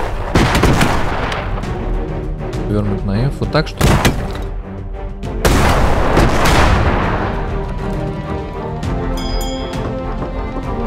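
Cannon fire from airships in the strategy game Airships: Conquer the Skies, several loud booming shots with sharp crashes scattered through the clip, heard under someone speaking Russian.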